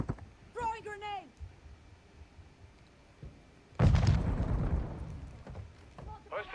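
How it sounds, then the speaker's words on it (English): A grenade detonates in the video game Call of Duty Modern Warfare II, a sudden loud boom with a rumbling, crackling tail that fades over a couple of seconds, preceded by a brief shouted voice. "Throwing grenade!"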